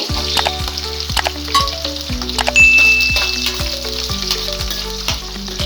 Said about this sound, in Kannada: ಚೆನ್ನಾಗಿ ಫ್ರೈ ಮಾಡೋಣ ಈಗ ಬೆಳ್ಳುಳ್ಳಿ